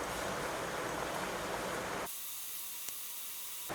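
Steam hisses from an idli steamer being used to make pazham idli, a loud, even hiss that drops to a softer, thinner hiss partway through.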